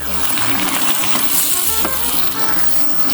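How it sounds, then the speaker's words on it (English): Grape tomatoes simmer in a pan sauce, a steady close sizzle and bubbling with clinks of a spoon or utensil stirring, broadband and fairly loud throughout with a low musical tone underneath. "And now we just want to simmer this, let the grape tomatoes cook"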